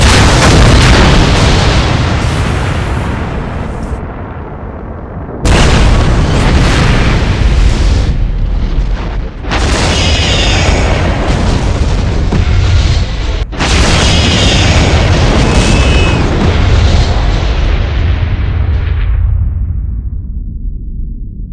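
Heavy booming explosions from rear torpedo tube fire in a Star Trek versus Stargate space battle game, an armored Voyager against an Ori fleet, rolling continuously with loud dense blasts and brief gaps.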